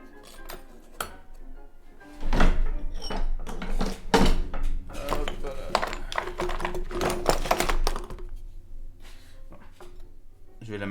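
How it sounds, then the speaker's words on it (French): A small hammer taps solder against the side of a ring at close range in quick, uneven bursts of sharp metallic clicks, with softer taps before and after the busiest stretch. "Je vais la marteler ici sur le côté."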